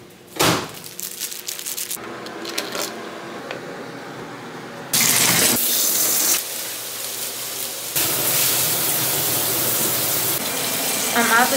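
Shower water runs in a college student's bathroom as a steady broadband hiss that swells louder partway through, with a few clattering knocks and brief handling noises mixed in and no speech.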